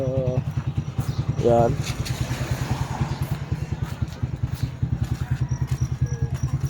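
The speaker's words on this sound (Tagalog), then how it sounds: "Pasok mo yung motor doon." A motorcycle engine idles with a steady low pulsing throb, running close by throughout while people talk over it.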